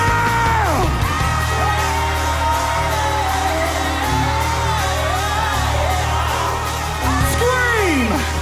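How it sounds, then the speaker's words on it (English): A church congregation at a Sunday service shouting and yelling together, a loud sustained roar of many voices with whoops and cries rising over it throughout. "Everybody shout right now."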